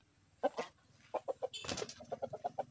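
Ancona chickens being let out into a backyard give a series of short, soft clucks in uneven bursts, with a brief louder flurry midway, heard close and quiet.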